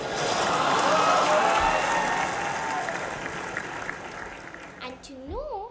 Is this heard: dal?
no